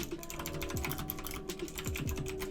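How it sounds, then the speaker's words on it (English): Rapid clicking of keys on a computer keyboard, steady irregular keystrokes close up, with a faint low hum and soft background tones underneath and no talking. "So I'm just going to type this in."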